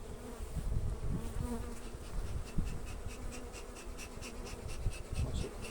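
Bees buzz steadily around a control beehive that stands on a scale and holds ten frames with a honey super on top, a close, continuous drone with some low rumble.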